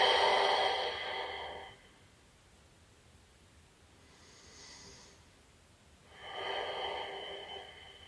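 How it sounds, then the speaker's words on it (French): Deep, slow breathing during a yoga stretch, two long airy breaths close up, one at the start and another near the end, with a faint softer breath between. "Et on respire."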